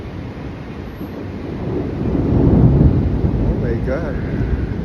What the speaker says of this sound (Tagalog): Kulog